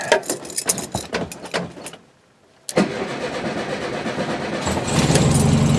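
An old vehicle with a manual clutch is started in the cold: keys jangle, a short silence follows, then the starter catches and the engine fires into a loud, steady idle close by.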